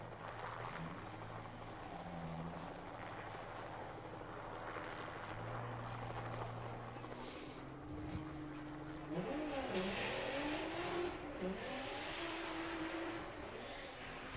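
Volkswagen Jetta at a drag racing festival making its run, a steady engine roar with rising revs and shifting tones, loud and continuous with crowd and ambient noise beneath.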